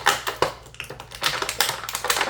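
Action figure head being popped out of stiff plastic blister packaging, a close, rapid series of sharp crackling clicks and snaps in uneven bursts.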